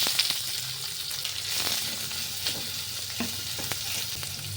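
Medium onion sizzling in hot oil with dried chilli and fenugreek seeds, a steady bright crackle with scattered pops and the occasional scrape of stirring, close and moderately quiet.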